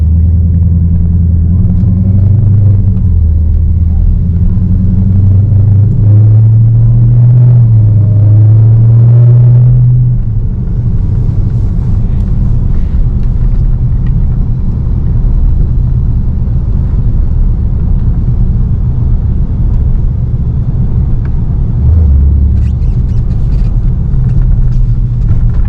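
A 717 hp Dodge Charger SRT Hellcat rumbles while driving slowly, its loud, continuous low engine drone rising in pitch for several seconds, then settling into a steady, deep rumble.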